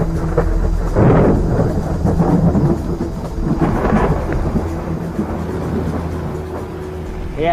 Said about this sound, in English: I hope that this storm can bring some more water.